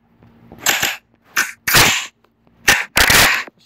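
A Weaphones toy gun plays an AK-470 gunfire sound effect: sharp, loud electronic bursts of shots come in clusters, a couple of quick pairs separated by brief silences, close and without talk.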